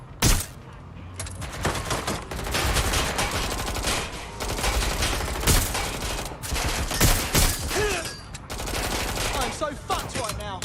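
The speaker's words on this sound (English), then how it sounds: "I'm getting shot out here!" Dense, sustained gunfire from a Watch Dogs: Legion firefight: rapid bursts and single shots overlap almost without pause across the whole stretch, loud and close, with a few sharp isolated cracks.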